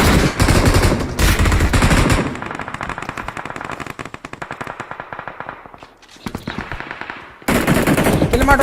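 Automatic weapon fire in the mobile shooter BGMI rattles in loud, rapid bursts, with a long stretch of continuous shooting, a short pause, then another heavy burst.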